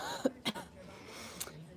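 Two short, sharp coughs close to the mic in quick succession, followed by a fainter third burst over a quiet room.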